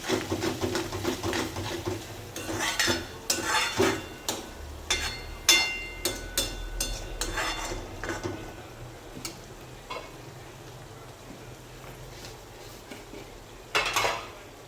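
A spatula scrapes and clatters against a pan in quick bursts while sautéing green chillies and garlic, with a faint sizzle beneath; the stirring thins out toward the end.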